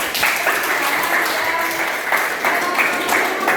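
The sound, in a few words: applause for a street vendor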